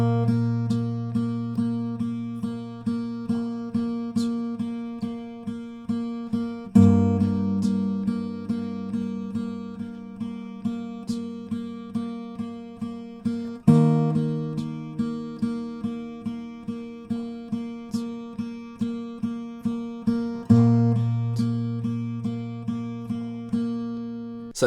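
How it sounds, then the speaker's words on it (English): Fingerpicked acoustic guitar playing the verse of a song, steady plucked arpeggios over sustained bass notes, with clear chord changes roughly every seven seconds, played alone without voice. "So that's it for the finger picked verse, which will sound like this."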